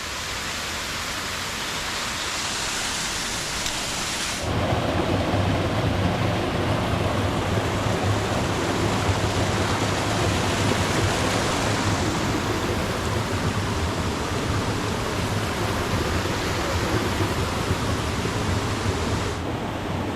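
A mountain stream on a trek up Jepii Mici rushes loudly and steadily close by, a continuous broadband roar of flowing water that swells a few seconds in and holds without any talk.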